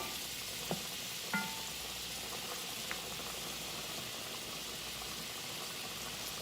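Potatoes frying in butter in a pan, a steady dense sizzle running throughout with a few faint clinks and scrapes along the way.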